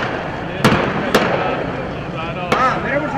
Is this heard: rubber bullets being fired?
yes